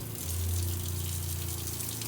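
An overland truck's water pump runs with a steady hum while water flows continuously into a 20-litre waste tub, close and constant with no talking.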